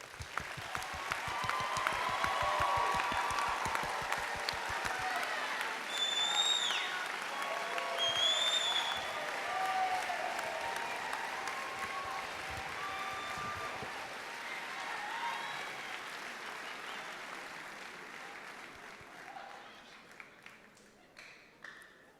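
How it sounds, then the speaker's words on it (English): Sustained applause from a large audience honoring award recipients at a college commencement ceremony, dense and steady, with a few voices and cheers rising over it before it slowly thins out near the end. "Let us give our award recipients a round of applause."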